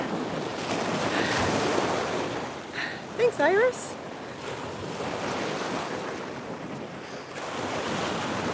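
Ocean waves and surf wash in a continuous rushing roar with wind buffeting the microphone, rising and falling gently; a person speaks briefly over the surf partway through.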